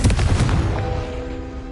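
A Confringo fire spell blast in Hogwarts Legacy, a loud booming burst at the start that rumbles and fades over a second and a half, leaving a faint tonal hum.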